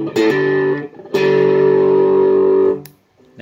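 Electric guitar played through a Shark Moo Kalei overdrive pedal, giving loud, distorted sustained notes: a short chord, then a long ringing held note that cuts off abruptly.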